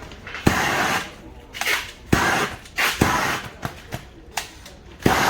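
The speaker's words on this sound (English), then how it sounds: "That means with gas burners they are shrinking the foil," Workers use gas burners to heat-shrink wrap foil around a yacht under refit. Repeated sharp bursts and pops rise over a constant roaring hiss from the burners, coming at irregular intervals and captured nearby.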